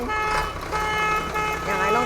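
Horn of a tandem-axle 7810 truck sounding in steady, repeated blasts across the whole moment, fairly close and loud, with a voice talking over it.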